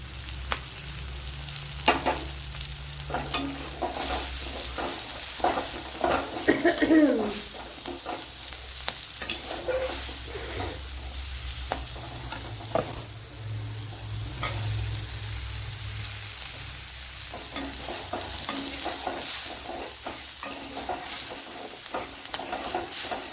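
Steady sizzling of sliced shallots frying in a pan for a bitter gourd curry, with intermittent stirring clatter and scraping throughout; no voices.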